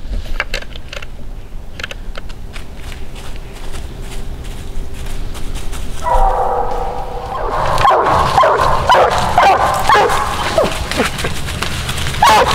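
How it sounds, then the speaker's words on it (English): A coonhound barks at a treed raccoon near the edge of a ditch, with sharp repeated barks and yips starting faint and distant, then growing louder and more frequent in the second half. "Let out a locate and did a couple more ground barks."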